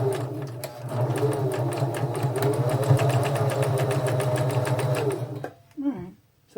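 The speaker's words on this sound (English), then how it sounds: "I'm gonna go with the zigzag on this." Sewing machine stitching zigzag on faux fur, a close, rapid and steady mechanical whir with even ticking that runs for about five seconds, then stops as a voice speaks briefly.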